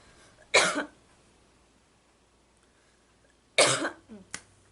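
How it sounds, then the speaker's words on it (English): Two short, sharp coughs from a person with gastritis, close by, a few seconds apart, the second followed by a small extra cough. "The main reason why I'm coughing a lot is because of my gastritis"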